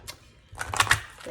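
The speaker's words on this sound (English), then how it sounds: "Would help if I actually shuffled these cards now" Tarot cards shuffle in a short burst of quick, close riffling clicks and flutters, with faint talking nearby.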